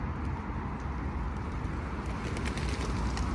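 Pigeons coo steadily through a dense, low outdoor rumble, where a group of birds gathers around scattered feed; the calls blend into continuous background noise with no voices.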